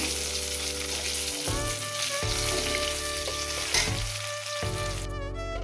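Eggplant pieces frying in hot oil for a tilapia dish in mustard-poppy sauce, giving a steady, close sizzle throughout with a tonal musical backing underneath.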